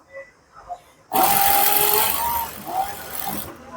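A sewing machine runs a straight stitch along a marked line on a blouse sleeve, whirring steadily and close for about two seconds after a voice speaks quietly beforehand.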